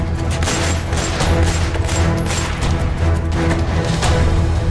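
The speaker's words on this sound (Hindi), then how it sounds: "पटना में गोलियों की तड़तड़ाहट" Gunfire in a Patna hospital shooting during a gang attack, heard as a dense, continuous rattle of rapid shots and bangs, loud and close for nearly five seconds with no talk over it.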